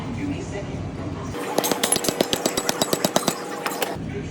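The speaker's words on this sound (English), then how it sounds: "you'll have to tap it in with a hammer" A quick run of sharp metallic hammer taps, about fifteen in a steady rhythm, close and fairly loud, then stopping, as a seal is tapped into place during a Volvo kingpin install.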